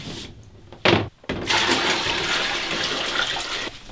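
Water running through an instant water heater in a kitchen, with a brief splash and gap before a steady loud rush of flowing water that continues evenly, then cuts off near the end.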